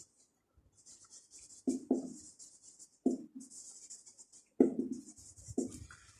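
Up close, a pen scratches across paper in short bursts of strokes separated by brief pauses, with a few soft knocks on the desk in between.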